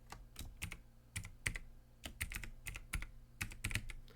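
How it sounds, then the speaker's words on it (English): Keystrokes on a computer keyboard entering a login password, a quick irregular run of crisp close clicks in short bursts with brief pauses, no voices. "type in the password ndg"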